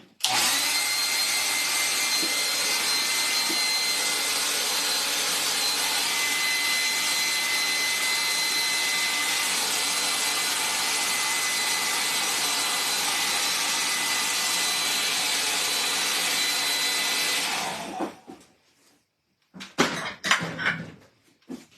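A hair dryer blows drying a watercolor painting, a loud steady rushing hum that runs close and unbroken for most of the time, then cuts off, followed by a few faint bumps and handling noises.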